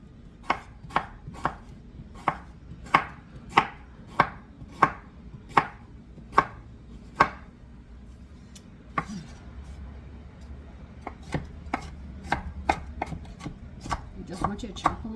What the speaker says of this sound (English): I just want you to chop them up.